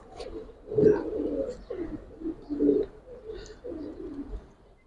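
Giribaz pigeons, including silver kaldom and chuina birds, coo in soft repeated low bursts close by, with faint rustling between calls and no talking.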